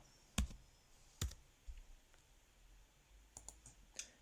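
Computer mouse clicks during CAD drafting in Siemens NX, a few sharp, close, isolated clicks spaced irregularly with a quick double click near the end, over a quiet background.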